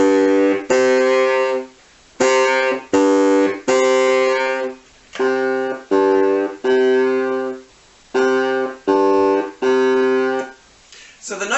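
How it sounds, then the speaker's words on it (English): A low woodwind bass line played on a kirtle or bassoon, sustained notes in short phrases separated by brief pauses, steady and close with no talking. "So I'm going to put down a bass part for you using the bass instrument, the kirtle or bassoon."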